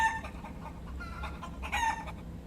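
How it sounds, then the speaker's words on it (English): Cartoonish chicken clucking and crowing sound effect in a flight simulator, repeated in quick bursts over a steady low engine drone. "There's our chicken sounds."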